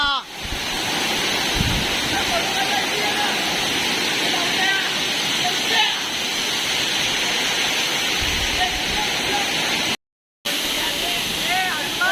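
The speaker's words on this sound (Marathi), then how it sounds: "आमच्या कोकणामध्ये एकदम सुंदर असा वॉटरफॉल पाहायला नक्की यावा" Navlai Devi waterfall in Guhagar, Konkan, roars as a constant broadband rush of falling water that fills the whole stretch, with occasional gusts of wind.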